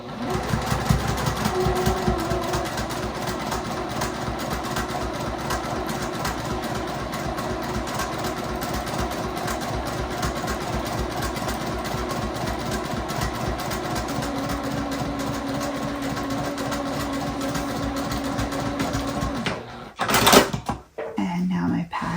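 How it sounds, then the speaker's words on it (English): A sewing machine runs steadily, stitching a slim quarter-inch seam around a fabric patch on a sewn patch-cat toy, its rapid needle rhythm continuous for about twenty seconds before stopping with a brief clatter near the end. "I am just going to stitch around that with a nice slim 1/4 inch"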